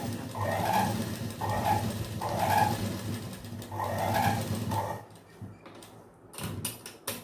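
A sewing machine stitches a patchwork blouse, its needle running in a rapid rhythmic whir in repeated bursts, close by, then stopping into quiet with a few clicks and knocks near the end.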